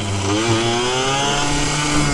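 A small Yamaha YSR50 mini street bike engine buzzes with a high, raspy whine, rising slightly as it revs in one continuous burst. Close, loud and alone, with no voices.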